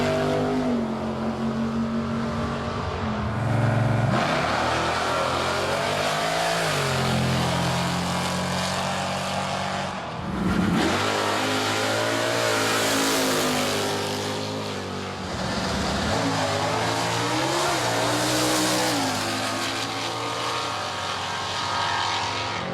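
At the Quarter Aces Dragaway drag strip, loud cars roar through repeated accelerating passes, engine pitch climbing and dropping as each one launches and pulls away.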